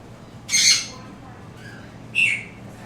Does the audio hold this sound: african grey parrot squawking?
yes